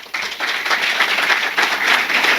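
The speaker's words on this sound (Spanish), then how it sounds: "Un aplauso para el decano." Applause for a university dean at a book launch: a steady wash of many hands clapping together, fairly loud and sustained from start to finish, with no voices standing out.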